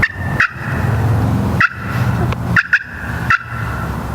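A turkey pot call makes a few sharp, close clucks, short high pops spaced irregularly across a few seconds, over a low background rumble with no speech.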